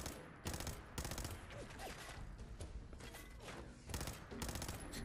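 Short staccato bursts of gunfire from a weapon in Fallout 4, several sharp clusters of rapid shots separated by brief pauses, fairly close, with scattered mechanical clatter in between.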